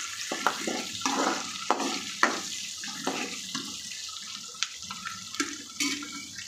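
Okra and tomato frying in oil with cumin, a soft continuous sizzle under scattered clatters and scrapes of stirring, close by and without voices.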